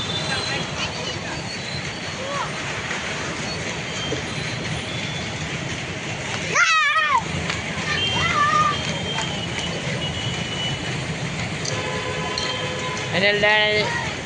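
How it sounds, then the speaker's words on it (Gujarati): Rumbling train noise runs steadily throughout with metallic squeals and a brief horn-like tone, in a busy outdoor setting with faint voices. "આ બધા ટ્રેનિયાઓ છે ગાઈસ."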